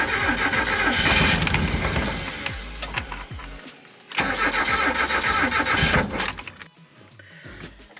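A turbocharged Mazda Miata engine cranks and catches, roaring loudly up close, dropping away, then firing again in a second burst before settling toward a rough idle.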